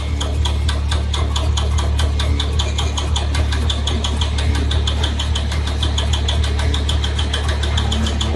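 Homemade spring-driven generator device spinning, giving a steady, loud mechanical hum with a fast, regular knocking tick throughout.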